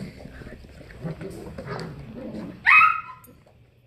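Poodle puppies, eight weeks old, whimpering and yipping, ending in a sharp, high bark, with faint human voices in the background.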